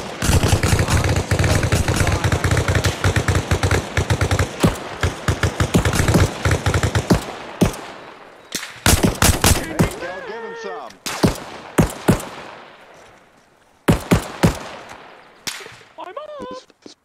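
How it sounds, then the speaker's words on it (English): Machine gun fire in the Arma Reforger video game rattles in long, loud, rapid bursts, then breaks into shorter volleys and scattered shots with brief gaps and distant voices between. "Uber, lay down some suppressive from here"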